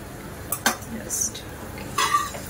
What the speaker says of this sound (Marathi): परतून घेते थोडंसं